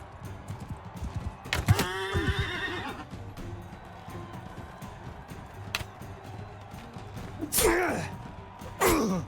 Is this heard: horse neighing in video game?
yes